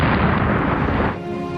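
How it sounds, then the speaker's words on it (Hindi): A bomb blast at a crowd gathering, heard as one loud, dense roaring burst that fills the clip and then thins into a lingering rumble. "तभी धमाका हो गया।"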